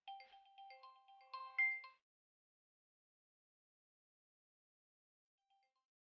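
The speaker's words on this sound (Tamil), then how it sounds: "என்ன ஃபோன் சவுண்ட் அடிக்குது?" A phone ringtone plays a melodic electronic tune in bright repeating notes for about two seconds, then stops, followed by near silence with only a faint brief tone at the end.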